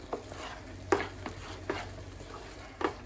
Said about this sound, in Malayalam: ഇനി നന്നായിട്ട് ഇളക്കി ഒന്നും കൂടി ഡ്രൈ ആക്കാം